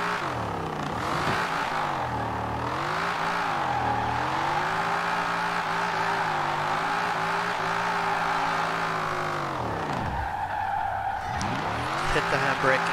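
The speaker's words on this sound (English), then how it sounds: "if she drifts, it'll kick me in that low gear with that high rev count" A 1968 Mustang GT Eleanor in Forza Horizon 4 drifts with its engine held at high revs in low gear, a loud continuous wailing roar that sweeps up and down, dipping sharply near the end before climbing again, with tire squeal mixed in.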